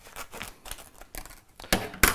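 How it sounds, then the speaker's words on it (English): A haemostatic dressing packet is torn open along the top, giving a series of crisp rips and crinkles with two louder tears near the end, close by, with no talk. "You just tear along the top, or you can take your scissors and just cut along the top."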